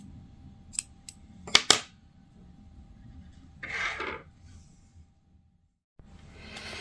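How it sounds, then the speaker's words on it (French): Scissors snip through crochet yarn in a few quick, close cuts, sharp crisp clicks at first, then a softer rustling of yarn, with no talking. "Et là, on coupe le fil."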